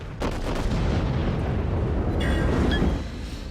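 A heavy naval gun blast booms from the battleship South Carolina in World of Warships, followed by a rolling rumble and whistling tones.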